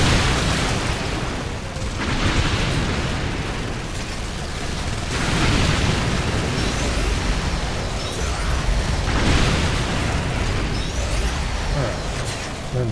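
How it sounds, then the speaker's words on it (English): Missiles burst in a continuous barrage of explosions in the video game Earth Defense Force 6, loud rumbling blasts overlapping with repeated swells and no pauses. "Let him blow you up with lots of missiles."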